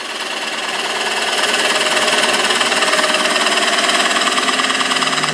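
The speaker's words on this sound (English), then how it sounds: "So here I'm going to use the skew" Skew chisel cutting a 12-inch red oak bowl on a wood lathe, a loud steady whirring and rattling hum that holds for the whole stretch without pause.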